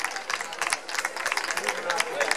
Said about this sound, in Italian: L'applauso anche per Claudio Zanoletti